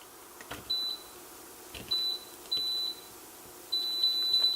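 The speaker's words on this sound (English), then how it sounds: "on continuity, listen for the beep." Multimeter on continuity setting checking a fuse for a NuTone low-voltage transformer, emitting short, clear electronic beeps in four bursts, the last one longer, over quiet room hiss.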